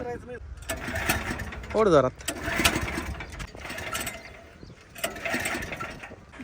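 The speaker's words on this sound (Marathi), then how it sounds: "चला हे बघा ट्रॅक्टर चालू केलं आपण" A tractor engine cranks and sputters, stalling and running in uneven bursts with mechanical rattling, while a person speaks briefly over it.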